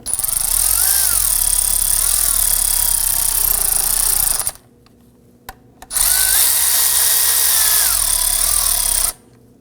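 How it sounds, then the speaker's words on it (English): A power tool snugs down bolts on the CV axle of a Volvo S60, whirring loudly in two sustained bursts of about four seconds each, separated by a brief pause with a couple of short blips. "I'm going to gently snug those down."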